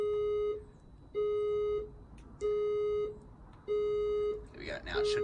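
A building fire alarm system sounds during a zone 8 test, its electronic tone pulsing in steady, evenly spaced bursts of about a second, loud and close, with a brief rustle of movement near the end.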